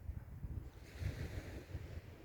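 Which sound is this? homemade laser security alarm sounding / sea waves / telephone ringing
sea waves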